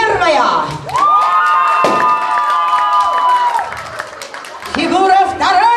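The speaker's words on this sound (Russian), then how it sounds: "Должны звучать аплодисменты" Children at a school last-bell celebration at a summer camp cheer and shout in a loud, sustained crowd roar, with clapping mixed in and raised voices calling out throughout.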